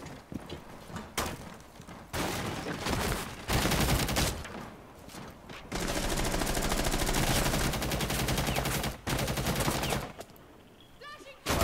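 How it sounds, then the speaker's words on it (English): Bursts of rapid gunfire in an online shooter game, fired through a closet wall at an enemy, loud clustered volleys with pauses between them and some thuds and mechanical clatter. "I fucking wallbanged some guy through this fucking closet"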